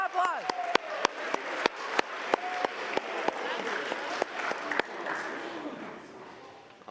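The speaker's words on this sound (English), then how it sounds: "Come on, get round applause." An audience at a First Baptist School of Rosemount event in Minnesota claps steadily, a dense rattle of many hands with sharp individual claps standing out, fading toward the end.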